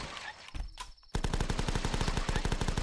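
Rapid machine-gun fire at zombies in the flash game The Last Stand, a loud, fast, evenly spaced burst that follows a few scattered single shots.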